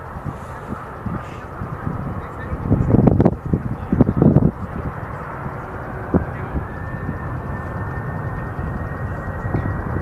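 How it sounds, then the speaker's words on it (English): Stratolaunch carrier aircraft taking off, a steady broadband engine roar heard from a distance, swelling with a couple of louder surges early on before settling into a continuous rumble. "Impresionante lo que es el despegue de esta aeronave"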